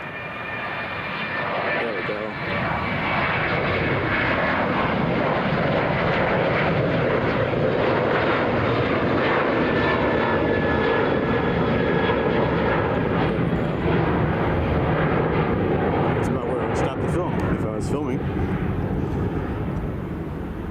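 An American Eagle Embraer regional jet engine at Chicago O'Hare International Airport roars steadily and loudly for the whole stretch, a sustained broadband rumble with a faint high whine, nearby and unbroken.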